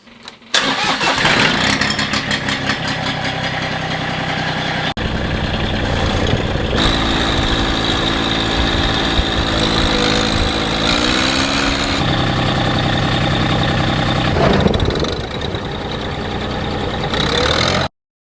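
A riding lawn mower engine cranks and catches, then settles into a steady, loud idle that holds close by for most of the stretch, its pitch shifting slightly midway before steadying again.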